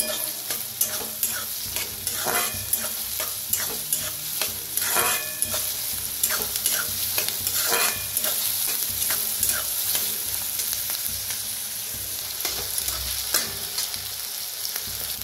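Finely chopped onion with a pinch of asafoetida fries in a pan for a masoor dal and onion dish, giving a steady, close sizzle broken by frequent scraping stirs throughout, with no talking.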